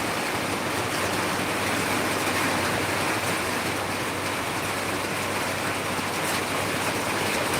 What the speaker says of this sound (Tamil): மழை ஸ்டார்ட் ஆகிடுச்சு